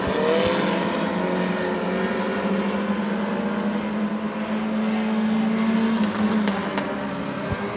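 Hornet-class race cars at Princeton Speedway roaring continuously in a loud, steady engine drone, with one engine tone rising and holding as the cars run together and no talking over it.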